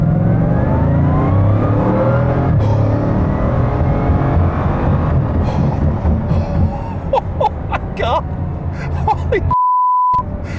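A Bugatti Divo hypercar accelerates hard with a loud, dense engine roar and whir that builds and then breaks into shifting, fluttering tones, ending with a short electronic beep.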